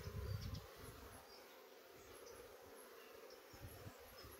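Faint, steady buzzing of a honey bee at a hive during colony expansion, with a low rumble at the start and soft background hiss, no talking.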